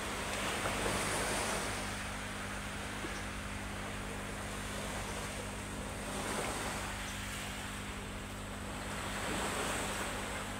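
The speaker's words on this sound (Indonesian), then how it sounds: "Pantainya bagus, ada pasirnya." Surf washing onto a quiet, clean sandy beach at Balikpapan, a loud, continuous roar that swells and recedes in slow waves, mixed with wind buffeting the microphone and no voices.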